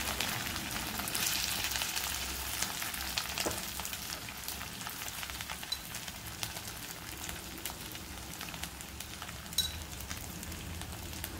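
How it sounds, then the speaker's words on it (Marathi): Sabudana khichdi with chili frying in oil, a steady close hiss and crackle of sizzling with faint stirring clicks, continuous and unaccompanied by speech. "नंतर त्याच तेलामध्ये खिचडी करणार आहे"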